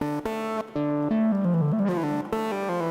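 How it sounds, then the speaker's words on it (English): A short, plucky synth plays a melody in its plain unedited tone. Bright staccato notes come in quick succession, with a few sliding pitch bends in the middle, clear and up close with no voices. "Short, plucky synth."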